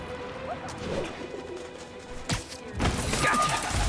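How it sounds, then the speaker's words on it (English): A pigeon coos in Marvel's Spider-Man: The Heist DLC on PS4, its soft calls mixed with sharp crashes and bursts of street and action noise. "Man, I wish I spoke pigeon."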